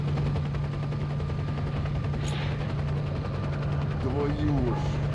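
Helicopters in S.T.A.L.K.E.R., a continuous droning rotor hum with rapid chopping pulses and a steady engine tone, heavy and constant, with a brief voice near the end.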